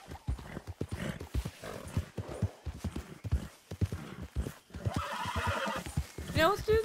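Horse hooves clip-clop in a rapid trotting rhythm inside the video game Red Dead Redemption, close and fairly loud, ending in a sharp whinnying neigh, with someone talking over much of it.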